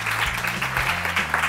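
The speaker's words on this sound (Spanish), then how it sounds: "Un aplauso para Rebeca." An audience at a vegetarian cooking talk breaks into applause, a steady, fairly close wash of clapping lasting the whole moment, with musical tones underneath.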